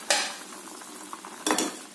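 A spoon scrapes and clinks through chicken pieces boiling in water in a pot, two sharp metal knocks with a soft bubbling, stirring texture between them; quiet and close, no voices.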